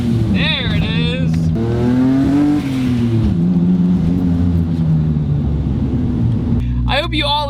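Mitsubishi 3000GT VR4 with a single turbo conversion driving on the road, its engine droning and rising through gears with whining tones, loud and steady throughout, with brief high squeals at the start and end.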